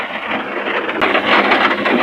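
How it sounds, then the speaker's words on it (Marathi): Heavy downpour during a drive along a road between villages, heard as a dense, loud, continuous hiss of rain that swells slightly after the first second, with no voices. "पाऊस"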